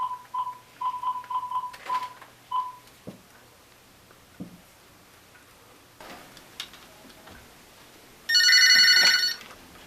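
A telephone rings during a call in a dramatized scene: a short run of rapid ringing pulses early on, then quiet handling clicks, and a bright, loud tonal burst near the end, with no talking.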